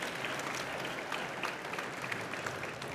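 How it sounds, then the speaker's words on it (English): An audience at a business conference in Sydney applauding, a dense, even wash of clapping from many hands held steady for a few seconds. "give a round of applause to Clint for coming and sharing his story today"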